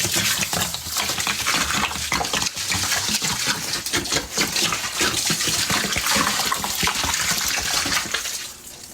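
Pine-scented detergent and dish soap poured from a jug in a steady, loud, continuous gushing stream of liquid, close up and without any talk, tapering off at the very end.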